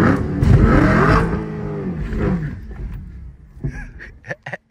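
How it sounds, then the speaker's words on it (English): A Chevrolet Camaro ZL1 1LE engine roars and revs loudly and close for a burnout attempt with a manual gearbox, rising and falling before cutting to a few short blips at the end. "I'm about to try to figure out how to do a burnout."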